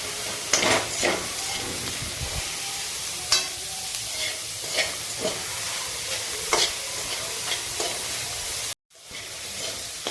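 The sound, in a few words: onion being sautéed in a pan without oil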